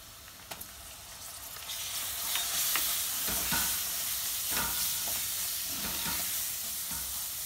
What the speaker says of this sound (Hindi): अब हम इसमें डाल देंगे हमारे टमाटर।